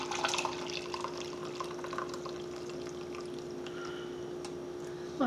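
Chai tea is poured through a strainer into a cup, giving a faint, steady trickle with soft drips over a low background hum.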